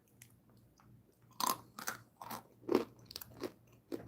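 A crunchy snack is bitten and chewed close up. Several sharp, loud crunches come in irregular bursts over soft background hum, with no talking.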